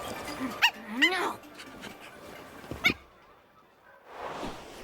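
A small dog in a Honkai: Star Rail character trailer gives a few short, bright barks and whine-like yelps over a busy mix, followed by a quiet gap and a burst of noisy sound.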